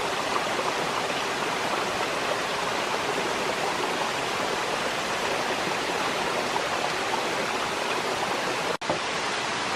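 Waterfall and stream flowing on a wooded hillside, a steady broadband rushing roar of water, close and continuous with no talking, briefly dipping just before the end.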